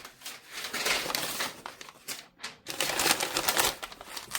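Paper being handled and rustled while unpacking a Cricut mystery box: dry, crackling crinkles in steady bursts that pause briefly midway, close and moderately loud with no talking.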